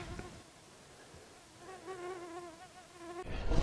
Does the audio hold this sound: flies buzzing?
yes